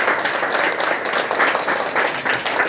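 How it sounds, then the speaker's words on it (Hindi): A gathered group at a community kitchen meal claps steadily for the host Rajeev Shukla, giving a dense, even patter of many hands close by and no speech over it. "तो इनके लिए सब लोग तालियां बजा रहे हैं।"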